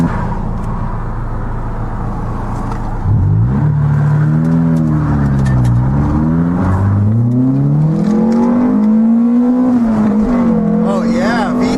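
Honda Prelude engine revving in neutral and bouncing off the rev limiter, heard from inside the car as a loud, rising and falling engine drone that climbs and holds high against the limiter.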